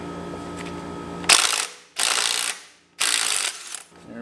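An impact wrench hammers at the 32mm front sprocket nut of a KTM Super Adventure motorcycle in three loud, close rattling bursts separated by brief pauses, over a faint background hum.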